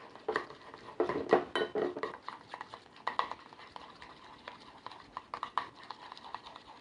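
Spoon stirring a couple tablespoons of plain yogurt in a bowl for mint chutney sauce, giving a series of close, irregular clinks and scrapes that are busier at first and sparser later, with no talking.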